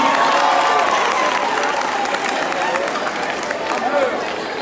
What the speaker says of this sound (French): Applaudissez pour lui, s'il vous plaît.